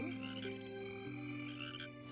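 Frogs croak at night in a steady, layered chorus of overlapping calls, fairly quiet and continuous with no voices.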